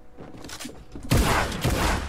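Rapid gunfire bursts from a Fortnite Creative 1v1v1 fight, quieter shots at first, then a loud, dense volley from about the midpoint that keeps going with a second surge near the end.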